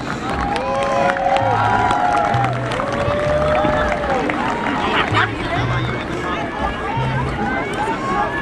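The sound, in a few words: crowd applauding for the Bronx Colts football team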